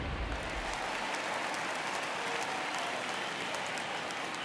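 A home stadium crowd in the baseball video game MLB The Show 19 roars and cheers as a continuous, loud, hissing wall of noise that stays level from start to finish.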